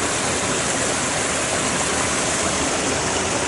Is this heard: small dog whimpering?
no